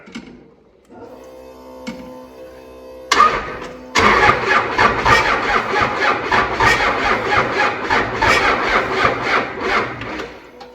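A 6.7L 12-valve diesel engine with 21:1 compression cranks on its starter, a steady mechanical whir that swells loud and continuous after a brief quieter start, with no voices over it.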